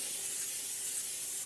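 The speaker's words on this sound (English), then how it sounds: "I'm gonna hit my griddle with just a little bit of cooking spray." Cooking spray hissing in a short, steady burst onto a hot griddle heating on medium before pancakes, a close, even airy spray with no talk.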